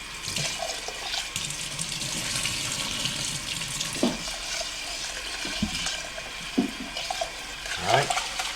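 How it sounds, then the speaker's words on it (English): Short grain rice is rinsed under a running kitchen tap, with water pouring steadily into the sink and intermittent splashes and swishes as the grains are stirred by hand. "Wash the rice."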